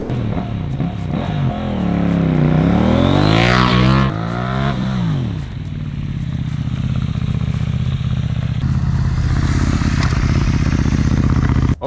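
A motorcycle blasts through a short full-speed approach with rising revs and gear changes, then drops off sharply as hard braking brings it into a stoppie, leaving a low idle and clatter; loud and close, no talk.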